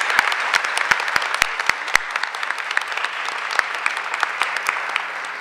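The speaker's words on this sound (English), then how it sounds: "So would you please join me in applauding her for her great accomplishments?" A school board meeting audience applauds the Teacher of the Year, with steady clapping from a roomful of people, several sharp nearby claps standing out early before the applause carries on evenly, with no talk over it.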